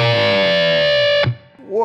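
Electric guitar through a Fulltone OCD V2 overdrive pedal, a loud sustained distorted chord that dives downward in pitch, cutting off abruptly before a short rising tail.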